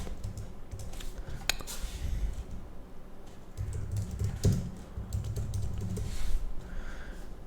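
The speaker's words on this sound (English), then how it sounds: "I will type here" Someone types on a computer keyboard in rapid, uneven bursts of close clicking and clacking keystrokes, continuing throughout with brief pauses and no voices.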